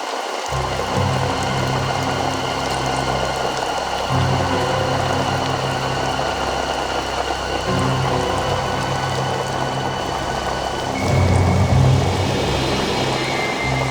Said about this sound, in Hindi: लगता कोई गाड़ी आया।